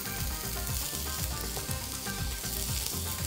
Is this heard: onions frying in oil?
yes